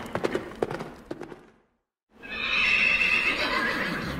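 A horse whinny from a Halloween animatronic effect, a loud drawn-out neigh after a brief silence, preceded by rhythmic hoof clip-clops at the start, with no voices.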